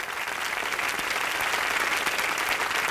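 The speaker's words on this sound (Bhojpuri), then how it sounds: "जोरदार तालियां संजय जी के लिए" Sustained, dense applause from the audience at a Bhojpuri film award ceremony in Malaysia, honouring an award winner. The clapping is fairly loud and steady for the whole stretch, with no speech over it.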